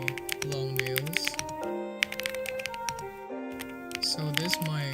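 Rapid, close clicking of computer keyboard keys struck with long nails, a scratchy irregular patter heard under a woman's speech and music.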